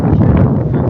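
Very strong wind blowing through a park, a loud, continuous rumbling buffet against the microphone with no talk.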